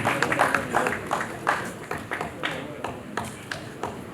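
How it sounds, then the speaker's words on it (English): A conference audience at an African youth day event gives uneven, scattered applause with separate sharp claps. The clapping rises and fades in waves, and a voice talks over it. "Please, a round of applause for this fan."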